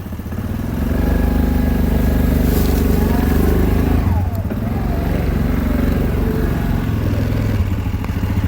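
A tractor engine runs steadily and loudly close by, a continuous low rumbling drone with a slight dip partway through, while voices talk faintly over it.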